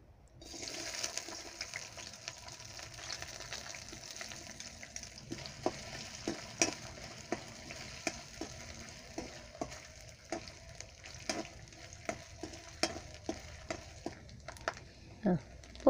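Coconut pieces sizzle steadily in hot oil as they are lightly fried for a Malayalam-style beef roast, with frequent sharp clicks and scrapes from stirring over the continuous crackle.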